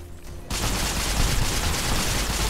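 Gunfire in Fallout New Vegas erupting after a brief quiet moment into a loud, continuous volley of rapid shots.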